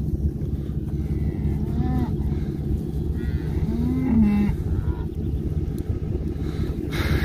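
Cattle of mixed red and black coats moo on a farm, several drawn-out calls at close to middle distance over a steady low background rumble.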